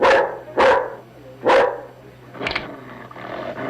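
A dog barks loudly and close up, three strong evenly spaced barks followed by rougher, quieter barking, over a low steady hum.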